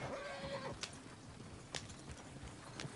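Horse in the Red Dead Redemption video game, with a short whinny early on, then a few hoof clops on a muffled ambient bed, moderately faint with no clear talk.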